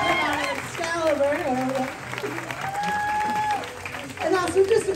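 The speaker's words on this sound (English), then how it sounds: "Give him a little round of applause" Audience applause at a comedy show in Las Vegas rises as a steady patter of clapping that runs throughout, partly under a talking voice.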